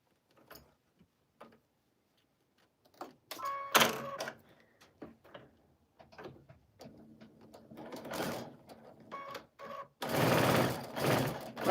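A home sewing machine stitches half square triangle quilt pieces in several short runs, with a long, loud, steady whir near the end and clicks and fabric handling between bursts.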